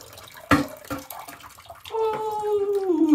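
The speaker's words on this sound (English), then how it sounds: "this removes, drains the water into the potty or the bucket, whatever you have" Water from a toilet fill valve drains into a small potty or bucket, first a splashy gush, then a steady trickle with rising ringing tones as the container fills, up close.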